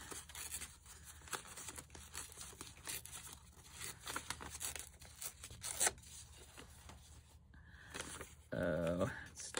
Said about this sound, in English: Let's tear this a little bit more.